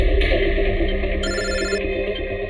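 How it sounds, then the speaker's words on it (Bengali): A telephone rings with an incoming call in a tense detective drama scene, a loud, steady electronic ring filling the whole stretch with no talk over it. "যে কোনো সময় ওদের ফোন আসতে পারে।"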